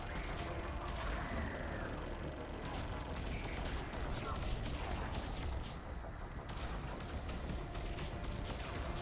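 Garrus fires his weapon in Mass Effect Legendary Edition amid a dense, continuous battle din of rapid shots and bursts, loud and unbroken throughout, with a voice talking over the top.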